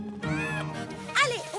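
A cartoon cat meows in a high, bending voice for a couple of short calls over a speaking voice and music, a bright rising meow standing out near the end.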